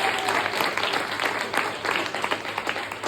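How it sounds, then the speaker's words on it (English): A crowd at a 25th anniversary prom gives a big round of applause after the speeches, with loud, dense, continuous clapping throughout and no talking on top. "can we give a massive round of applause?"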